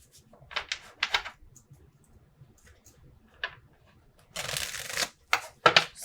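Oracle cards being shuffled close by in quick riffling bursts, several short clusters of crisp flicks separated by pauses, ending in a longer dense shuffle and a few final snaps.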